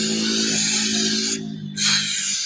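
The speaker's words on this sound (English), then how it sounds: "just kind of spray each one so it drips out" Cleaner sprayed into the intake manifold of a 2001 Jaguar XK8, a close, loud hissing burst that cuts off briefly and then resumes with another short spray.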